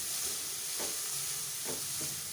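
Macaroni is tossed and stirred in a hot pan, with a steady hiss of sizzling and a few soft scraping stirs breaking through now and then.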